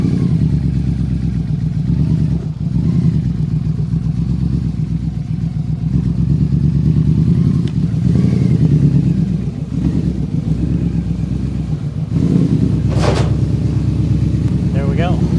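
A Polaris Sportsman 400 ATV, running rough after mudding and unable to drive, idles with a steady throbbing engine note and surges of revving, loud and close, with voices faintly underneath.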